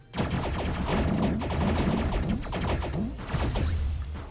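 Rapid bursts of video-game gunfire, fired from behind at enemies, crackle in dense overlapping volleys with thumping hits throughout, loud and continuous with no talking.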